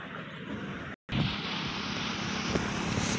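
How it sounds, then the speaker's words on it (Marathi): Heavy vehicles roll across a tall highway bridge over the Asana river near Nanded, a loud continuous engine roar and rumble filling the scene, briefly cut by a short gap before carrying on steadily. "खूप मोठ्या हेव्या गाड्या इथून रहदारी करत आहेत."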